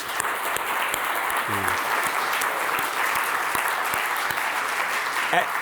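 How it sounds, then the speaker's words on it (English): An awards-ceremony audience gives the awardees a final round of applause: steady, even clapping from a large room, heard at a moderate distance and fairly soft, with a brief voice rising near the end. "So one big final round of applause to our awardees."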